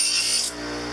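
A rotary dental tool grinds an acrylic thumb partial denture in a short, close, bright burst of abrasive whirring that cuts off halfway, leaving a steady lower motor hum.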